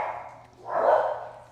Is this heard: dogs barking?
yes